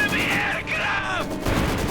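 Aircraft strafing runs of machine-gun fire in Company of Heroes 2, a 2v2 match of Soviet versus German forces, roar as a loud continuous burst mixed with rumbling booms and a voice talking over it.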